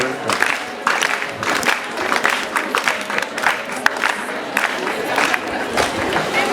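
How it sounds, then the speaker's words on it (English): Hand clapping and crowd noise rise for a deputy head teacher being welcomed at a girls' secondary school event, with scattered cheers and voices mixed into the steady, moderately loud applause. "We have to welcome her with a big hand clap"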